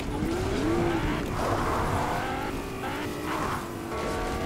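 Car engine in the Fortnite video game, a steady mid-loud motor drone with a rising whine and faint tire squeal, no talking over it.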